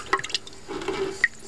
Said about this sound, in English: And it'll drip just a little bit like that.